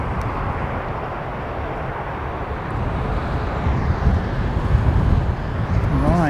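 ATR turboprop airliner taxiing slowly toward the runway at Christchurch airport, a steady broad engine drone with wind rumble, growing slightly louder toward the end.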